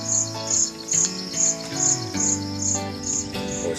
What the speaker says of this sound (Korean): 지금 아침이라 새소리도 되게 좋고